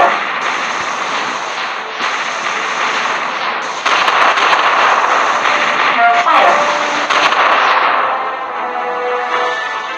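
A hero firing in the Defense Legend 2 mobile game, a dense continuous barrage of rapid shooting and explosion effects layered over game music, swelling and easing over several seconds.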